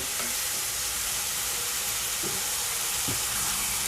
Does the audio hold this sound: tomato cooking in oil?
yes